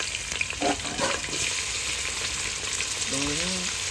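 Chopped onions go into hot oil on a home stove for a spicy gravy fish curry, and a steady loud sizzle and crackle of frying fills the clip, with brief stirring scrapes and a faint voice near the end.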